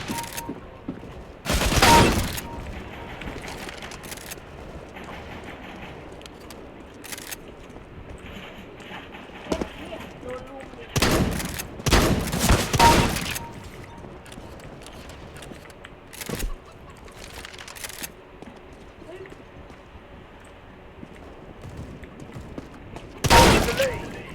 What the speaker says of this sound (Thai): ได้ยินเสียงสไนเปอร์ไม่ใช่เหรอวะ